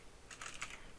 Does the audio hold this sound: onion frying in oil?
no